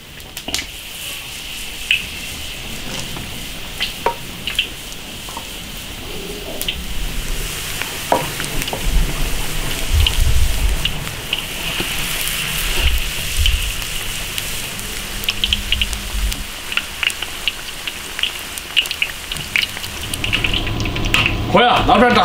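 Braised beef bones deep-frying in a wok of hot oil, a loud continuous bubbling sizzle with scattered sharp pops and occasional stirring clinks that continues steadily for the whole stretch.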